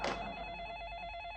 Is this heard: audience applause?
no